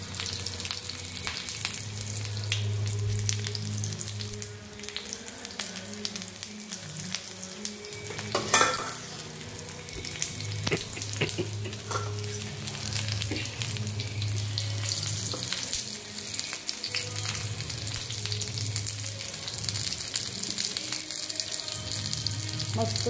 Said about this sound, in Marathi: आपल्याला जशा लागतात तशा तळून घ्यायच्या.